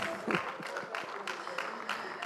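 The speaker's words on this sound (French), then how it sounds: "Applaudissez. Recevez-les comme on le fait d'habitude." Scattered applause from an audience greeting guests at a film club screening of "Blanc d'ébène," with irregular claps of moderate loudness, brief and somewhat uneven, mixed with some background voices.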